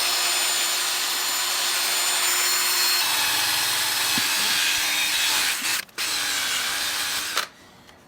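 A slow-running buffing wheel mop polishing an aluminum motorcycle engine gives a steady, loud broadband whir with rubbing friction, briefly dipping near the end before continuing more quietly.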